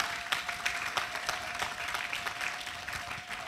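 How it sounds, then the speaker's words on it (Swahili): A church congregation clapping for Jesus during a sermon on prayer, a lively crowd of many hands striking in quick uneven bursts, moderately distant and without talk. "mpigie Yesu makofi"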